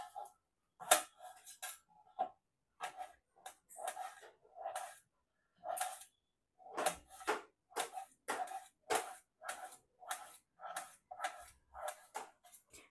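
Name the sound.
chopping peeled potato into small pieces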